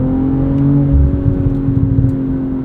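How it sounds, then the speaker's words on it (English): BMW M340i xDrive inline-six with an 8-speed ZF automatic, pulling hard in sport mode: a loud, steady engine drone climbing in pitch under acceleration, with road rumble beneath and no talking. "Very linear and responsive power from this engine."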